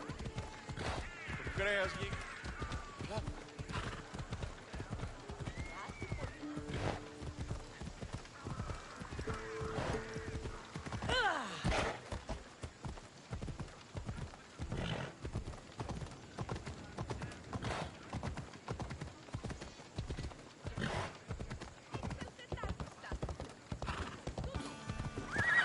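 In Assassin's Creed Odyssey, a horse's hooves clip-clop in a fast, steady gallop throughout, with whinnies and neighs breaking through and a voice talking over the hoofbeats.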